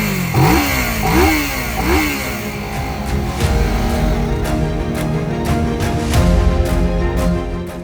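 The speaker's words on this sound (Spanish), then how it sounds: "en unos segundos más tarde ya podemos arrancar el motor" An engine fitted with an electrolysis system cranks in a few quick strokes, catches and settles into a loud, clattering run with uneven revving pulses.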